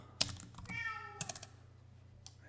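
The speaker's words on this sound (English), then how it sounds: "I don't know if you can hear my cat." A pet cat meows once in a drawn-out, quiet call indoors, with a few soft computer keyboard clicks before and after, faint against a low steady hum and no talking.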